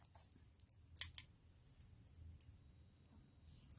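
Scissors snip crocheted yarn on a face mask, a few quick, crisp metallic clicks close by in an otherwise quiet room.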